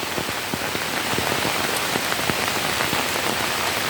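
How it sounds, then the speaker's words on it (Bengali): Rain falls onto taro leaves, a constant close hiss sprinkled with sharper individual drop taps on the leaves, steady and fairly loud with nobody talking. "কচু পাতার উপরে বৃষ্টি পড়তেছে আর পানি"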